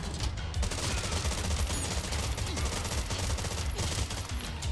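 Rapid, continuous gunfire from the 2D action game Terminator 2D: No Fate, dense overlapping bursts of shots that keep up loudly for the whole stretch with no pause for reloading.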